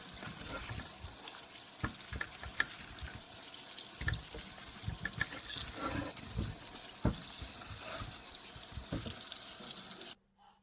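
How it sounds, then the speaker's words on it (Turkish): A kitchen tap runs steadily over chopped cauliflower and onion being washed for soup, a continuous splashing water stream with scattered soft knocks and rattles, cut off abruptly at the end. "Bunları bir yıkamamız lazım."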